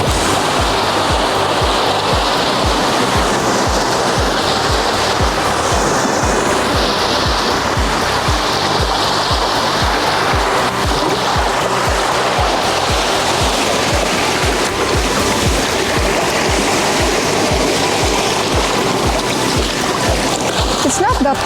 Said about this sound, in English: So that's Hayburn Wyke Beach and Hayburn Wyke Falls for you this afternoon.